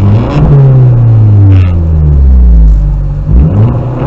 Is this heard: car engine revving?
yes